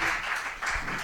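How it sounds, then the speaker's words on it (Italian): Studio audience applause greets guest Ivan Martini on an Italian talk show, a brief, dense wash of clapping heard close. "Ivan Martini, merita un applauso"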